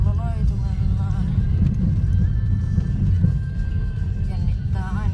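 A horse neighs at a Finnish stable, with whinnies near the start and again at the end over a steady low rumble of wind or movement outdoors.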